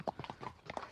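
Horse hooves clip-clopping as the horses slip on a steep, slippery slope at a Tenerife horse farm, several close, uneven hoof strikes in quick irregular succession.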